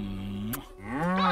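A cow moos loudly and close in the video game Just Cause 3, one long low call followed by a second rising moo, with no talk over it.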